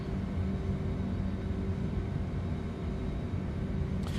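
Engines of a TFDI MD-11F freighter at climb power in Microsoft Flight Simulator 2024, a steady, loud, low rumbling drone with a faint growl that holds evenly throughout, with no talk.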